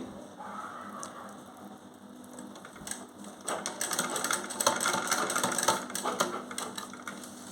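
A tailor's sewing machine stitches the back pocket of a gents' trouser, starting with faint intermittent clicks, then running into a louder, rapid mechanical rattle of stitching through the second half, close up and without speech.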